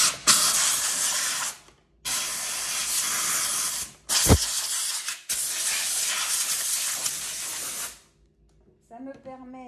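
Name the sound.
steam cleaner blowing steam into vacuum cleaner accessory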